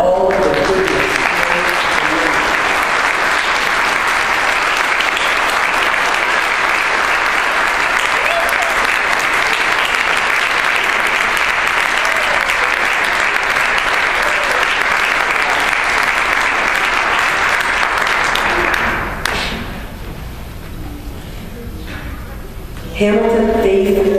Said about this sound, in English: I think this is time for a collective clap for all of the people.